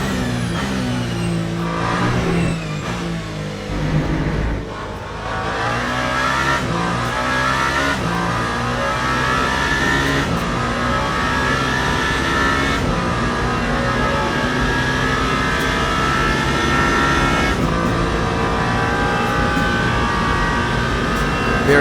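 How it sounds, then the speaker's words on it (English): The number 8 Toyota race car in Le Mans Ultimate drives at night, its engine screaming loud and continuous, pitch climbing through each gear with sharp drops at every upshift, no voices. "we are riding here with the number 8 Toyota"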